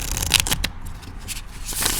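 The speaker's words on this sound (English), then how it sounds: "Let's see how these shuffle." Plastic Rider tarot cards being shuffled by hand, a few quick riffling bursts of flicking, slapping cards at close range, heard alone without talk.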